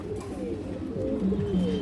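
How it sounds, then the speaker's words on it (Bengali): Silver Bagha female pigeon cooing in soft, repeated low throaty phrases, close by and steady, with no voices over it. "একটা সিলভার বাঘা মাদি কবুতর"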